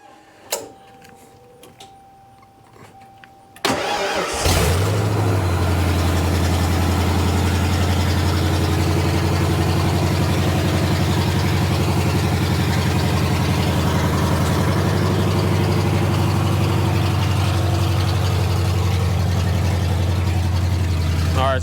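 Car engine fitted with long tube headers cranking and firing up, then settling into a loud, steady, deep idle that drones on close by, following a few seconds of quiet handling noises before the start.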